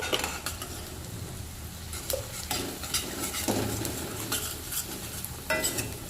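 Spoon stirring a tempered buttermilk rotla mixture in a pan, scraping and clinking in repeated strokes over a low sizzle, close and moderately loud with no talking.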